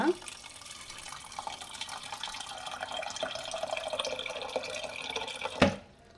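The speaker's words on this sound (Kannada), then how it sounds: "ಈ ಕಾಳು ಮುಳುಗೋಷ್ಟು ನೀರು ಹಾಕ್ಕೋಣ" Water pours steadily over soaked chickpeas in a cooker for several seconds, a continuous splashing rush ending with a brief clunk, then quiet.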